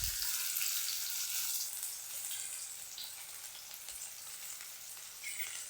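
Small onions and cumin seeds frying in hot peanut oil make a bright, even sizzle that crackles continuously and fades slightly toward the end.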